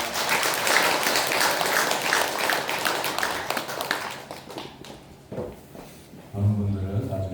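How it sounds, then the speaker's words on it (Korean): Church congregation applauding in celebration during a Sunday service, dense steady clapping for about five seconds that thins out into scattered claps, followed by faint low voices. "축하의 박수 하겠습니다."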